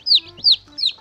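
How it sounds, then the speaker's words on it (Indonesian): A small yellow chick chirps three times in a steady rhythm, each call a bright, sharp, downward-sliding peep, close and clear with faint background noise between calls. "Wadidaw, ini anak ayam,"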